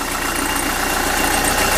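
A narrowboat's diesel engine runs steadily at idle, a constant low rumble with a mechanical knock and vibration, close and continuous with no talking.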